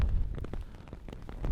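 Rain falling in the northern Sahara desert, a close, uneven patter of drops striking a surface with low rumbling gusts, loud and alone without talk.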